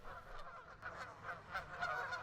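Canada geese honk repeatedly at a moderate distance in a wetland setting, a flock's overlapping calls forming a steady, busy chorus with no talk over it.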